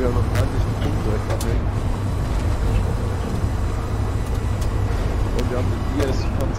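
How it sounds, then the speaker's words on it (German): A tank engine in the video game Hell Let Loose drones with a constant, loud low rumble throughout, with players talking over it. "Der Motor ist hardcore laut, ich verstehe so gut wie nichts."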